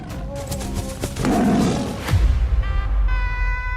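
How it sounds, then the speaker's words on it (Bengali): An animated Sundarbans tiger gives a loud, rough roar in the middle of the clip. Heavy low thuds follow it, and tonal effect sounds come near the end. "এ তো বাঘ।"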